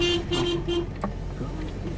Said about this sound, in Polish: Nie trąb.